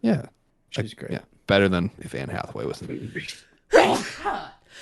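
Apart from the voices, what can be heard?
sneeze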